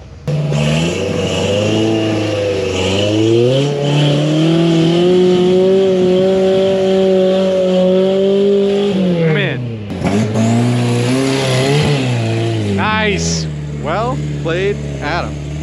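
Off-road rigs climb a rocky trail, engines revving loudly and continuously with rising and falling pitch, close to the microphone; people talk over the engine noise.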